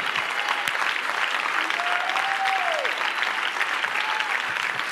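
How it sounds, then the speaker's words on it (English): A church congregation claps their hands in thanks during a sermon, producing dense, steady, sustained applause that fills the room, with a faint held vocal note rising briefly over it. "Clap your hands if you're thankful."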